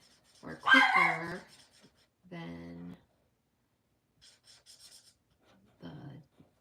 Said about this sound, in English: that's my dog in our bedroom, trying to get somebody's attention to come in there